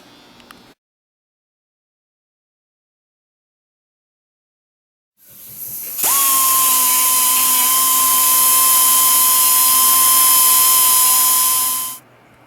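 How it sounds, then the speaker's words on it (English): A hole saw in a power drill cutting holes in a hot rod gauge panel. The motor starts after a silent pause, then holds a loud, steady, high whine for about six seconds before it stops abruptly. "now I'll set this and I can drill these holes out"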